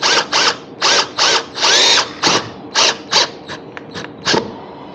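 A power driver runs a screw into a KEMIMOTO chrome passenger floorboard cover in short repeated whirring bursts, close and loud with brief pauses between, and no talking.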